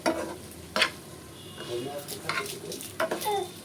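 Butter sizzles in a pan with a cheese corn snack while a utensil stirs and scrapes in quick, uneven strokes, with faint voices in the background.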